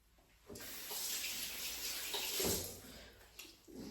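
Tap water runs steadily into a bathroom sink while oil-based cleanser is rinsed off a face, a continuous close splashing rush that swells midway with brief hand-splash accents.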